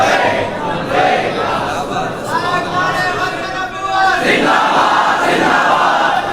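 A large crowd at a religious gathering roars and chants in unison, loud and sustained, with surges of voices and rhythmic shouting throughout.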